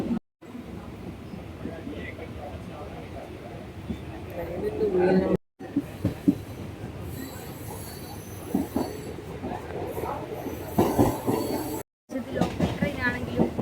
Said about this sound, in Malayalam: ട്രെയിനിൽ കയറി.